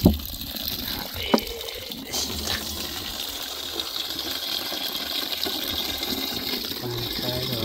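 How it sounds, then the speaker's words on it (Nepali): Spring water seeps out of the ground in a forest in Nepal, making a soft, steady rushing gush. The sound is faint and close, with a couple of brief knocks near the start. "योभन्दा उता कहीँ छैन, खोला नि छैन, पोखरी पनि छैन, तर यहाँ पानी निस्केको रहेछ"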